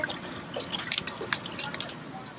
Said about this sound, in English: This is some water I'm adding. Dumping in our water.